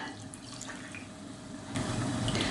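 Water is poured in a steady stream into a bowl of flour, sugar, salt and yeast for no-knead focaccia dough, growing fuller and louder near the end. No voices are heard.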